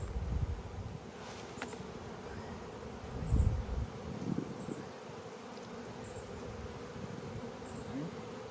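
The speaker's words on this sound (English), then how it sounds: "Some bees crawling on some comb." Honey bees swarm on comb at a hive entrance, giving a continuous close buzzing hum with rustling and a few louder bumps.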